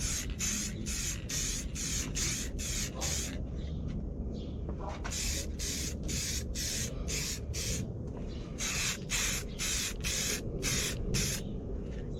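Rapid bursts of aerosol spray laid as a light coat on Jeep Comanche tail lights, a steady run of short hissing pulses with a brief pause midway, close and loud.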